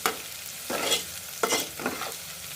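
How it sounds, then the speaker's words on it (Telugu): Onions and crushed garlic paste fry in a pan as a spoon stirs them, a soft sizzle punctuated by several scraping strokes at an uneven pace, close but fairly quiet, with no voices. "ఉల్లిపాయలు కాస్త మగ్గిన తర్వాత దంచుకున్న వెల్లుల్లి ముద్ద కూడా వేసుకుంటున్నాను."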